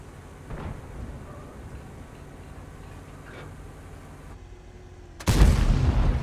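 A World of Tanks cannon fires a high-explosive shell in one loud, sudden blast near the end, after a stretch of low rumbling background with faint distant thuds.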